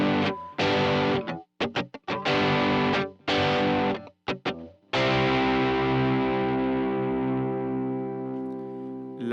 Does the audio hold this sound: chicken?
no